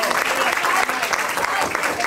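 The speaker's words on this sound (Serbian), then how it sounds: "Jedan aplauz za devojku." An audience claps for a contestant in steady, dense applause that fills the whole moment, fairly loud and close, with a voice talking over it.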